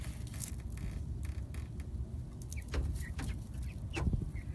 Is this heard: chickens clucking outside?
yes